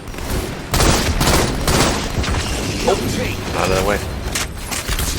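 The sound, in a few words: grenade explosions and gunfire in a video game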